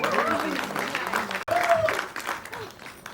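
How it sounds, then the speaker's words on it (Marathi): An audience at a Marathi film trailer launch event breaks into loud, sustained applause and clapping, mixed with voices and a brief cut partway through. "एकदा जोरदार टाळ्या."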